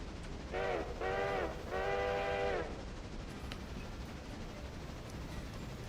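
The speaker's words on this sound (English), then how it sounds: "We are going to have to wait for the passenger train." Passenger train on a steam-era railway line sounds its horn in three blasts, two short then one longer, over a steady rumble of rolling wheels and rail noise that continues after the horn stops.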